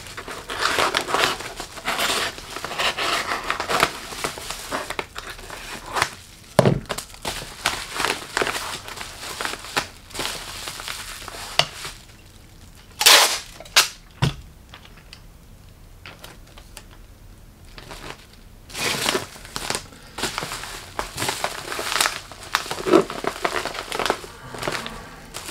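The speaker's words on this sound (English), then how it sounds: "Cut a little strip out." Packaging material for mailing an item is cut into a strip, giving irregular crinkling, crunching and snipping noises in uneven bursts with short pauses, close and fairly loud.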